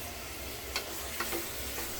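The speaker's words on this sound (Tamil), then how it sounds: "இதை நல்லா வதக்கி கொடுத்துக்கலாம். நல்லா வதங்கட்டும். மட்டன் நல்லா வதங்கட்டும்." Mutton pieces sauté in a pan for a special mutton gravy, giving a steady low sizzle with a couple of faint scraping stirs, close and alone with no talk.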